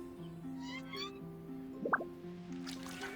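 A single short cat meow rises briefly over a soft, steady backdrop of game music and dripping tones, quiet and close, with no one talking.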